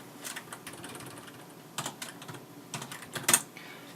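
Rapid typing of terminal commands on a computer keyboard while setting up a CentOS game server, a steady patter of close key clicks with a few louder strikes near the end.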